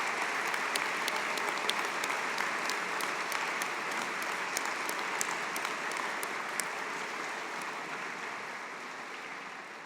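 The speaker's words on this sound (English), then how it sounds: "can we begin by giving yourself and each other a massive round of applause?" A graduation audience at a Manchester Metropolitan University master's degree ceremony claps at length in a large hall, dense, even applause with scattered sharp individual claps that fades slightly toward the end.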